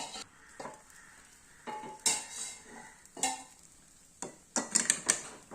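Upma being stirred in a pan after a cup of water is poured in, with scattered scrapes and clinks of a spoon against metal over a soft background hiss, in irregular bursts and no speech.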